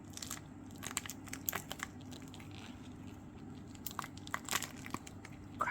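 A quartz crystal edged resin heart with dried flowers is slowly pulled from its mold, giving faint scattered crunching and crinkling crackles in small bursts over a quiet background.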